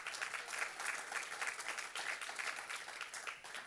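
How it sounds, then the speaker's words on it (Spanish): Sustained applause from a church congregation during a Sunday service, a dense steady patter of many hands clapping at once, moderately distant and continuing without a break. "Dele ese fuerte aplauso, se lo va a dar a él."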